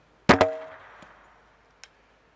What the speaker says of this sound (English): High capacity shell, MilSim Labs, payload rocket with a paintball in the front of it.